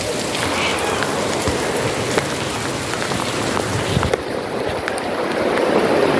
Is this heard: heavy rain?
yes